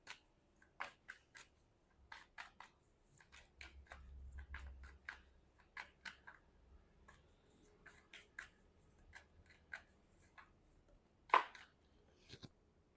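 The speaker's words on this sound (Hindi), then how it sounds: "काफ़ी सारे कार्ड्स जो है ना शफल करते हुए निकले हैं।" Tarot cards being shuffled by hand: soft, close, irregular flicks and riffles in quick clusters, fairly quiet, with one sharper snap near the end and no speech.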